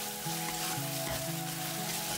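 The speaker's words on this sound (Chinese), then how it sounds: "倒入我们的料汁，快速的把它们翻炒在一起" Diced eggplant and minced pork stir-fried with poured-in sauce in a hot pan, a steady close sizzle with stirring scrapes and a low hum beneath, no talking.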